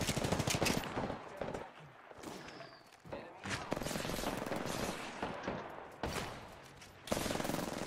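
Gunfire in the video game Apex Legends, with repeated automatic bursts and single shots in rapid clusters, loud and dense with brief pauses between exchanges.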